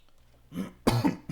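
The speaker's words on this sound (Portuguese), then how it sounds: "Peço perdão aí que eu tô com um pouquinho de tosse" A couple of short, close coughs, the second one louder and harsher, with a brief pause between them.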